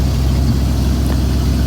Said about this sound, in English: It's got a nice gutsy sound on this vehicle. I converted this exhaust from a 2 1/4 inch pipe to a 3-inch straight pipe.